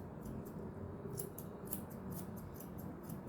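Oval-tipped scissors snip steadily in quick, regular cuts through a dog's face fur, soft and close, with no voices.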